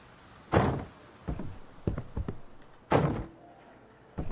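Several short thunks and knocks in a building video game as a door is placed, spaced irregularly over a quiet background with no talking.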